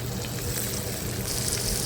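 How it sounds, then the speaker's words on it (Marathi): Alu vadi, colocasia leaf rolls, shallow-frying in a pan with little oil over medium heat, giving a steady, close hiss and crackle of sizzling that stays even throughout. "आता याच पॅनमध्ये मी अळूवडी टाकणार आहे जास्त तेलामध्ये नाही तळणार आहे"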